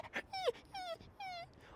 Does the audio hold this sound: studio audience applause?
no